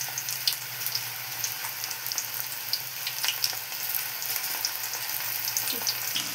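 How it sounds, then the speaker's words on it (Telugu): Onion pakodi crackling in hot oil, a steady dense sizzle with fine popping bubbles that continues evenly throughout, close and moderately loud with no talking. "ఈ విధంగా పకోడీ అయితే వేగుతుంది."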